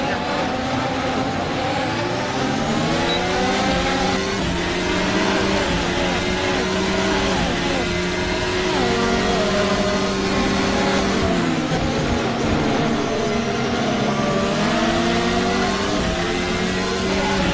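A Formula 1 car engine in Assetto Corsa, racing the Bahrain Grand Prix, screams loud and continuous as it climbs and shifts through the gears, with pitch sweeping up and down during a flying lap.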